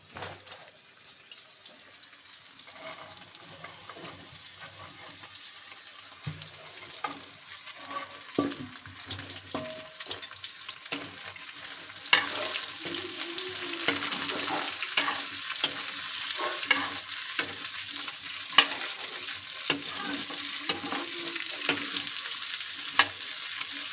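Okra and gram-flour bhajiya fritters fry in oil in a home kitchen, a soft continuous sizzle broken by stirring scrapes and periodic sharp clicks, with watery splashing noise growing louder in the second half.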